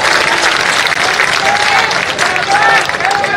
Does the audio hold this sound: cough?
no